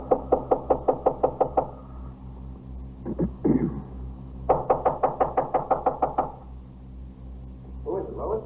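Police officers knock on an apartment door in a hallway: two long runs of rapid, loud, evenly spaced raps separated by brief voices, with a shorter burst of knocking at the end and a steady low hum underneath.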